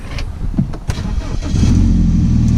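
BMW E88 engine cranking via a red push start button, a brief starter whir and a few clicks settling into a steady, loud idle rumble that continues to the end, with no talking.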